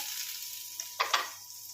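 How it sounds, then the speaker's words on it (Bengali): Carrots and yardlong beans with red chili pepper sizzle steadily in a pan, with a few sharp stirring scrapes near the end; close and fairly quiet, no talking. "রেড চিলি পেপার ভালো মতো দিয়ে ভেজে নেব"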